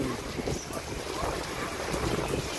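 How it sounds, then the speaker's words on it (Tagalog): Strong wind ahead of heavy rain roars and buffets continuously, a loud rushing blast with gusty rumbling, and no other clear sounds. "Lakas ng hangin."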